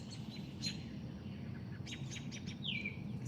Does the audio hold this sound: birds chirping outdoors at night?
yes